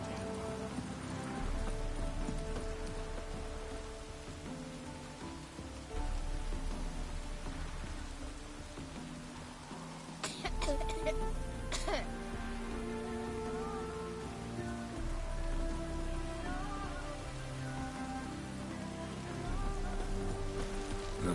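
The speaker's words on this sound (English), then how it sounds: "Rain doesn't bother you, it seems. It's just rains and rains." Rain falls steadily in The Witcher 3 video game, a continuous hiss of drops on surfaces under layered game music, with a few brief sharp clicks midway.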